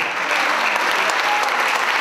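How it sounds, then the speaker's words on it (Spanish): An audience bursts into loud, dense applause for a young girl named Matilde at a music school's closing concert, steady clapping throughout with a few faint voices underneath. "Un fuerte aplauso para Matilde."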